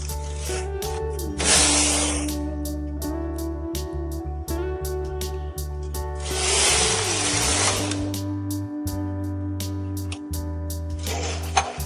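Knitting machine carriage (SK280) pushed back and forth across the bed while switching from white to red yarn, giving bursts of sliding rasp over a steady low motor hum, with two long passes and the start of a third.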